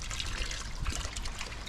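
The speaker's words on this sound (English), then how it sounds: "that thing always drip because I keep it dripping, so I can keep a mud puddle going here" A water source left dripping to keep a mud puddle wet for pigs gives a steady, close trickle with soft splashing, continuous through the moment.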